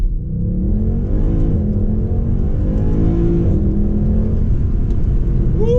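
A Mercedes C63 launches hard from a race start, its engine roaring loudly and continuously close by as it accelerates through the revs, with no talking over it.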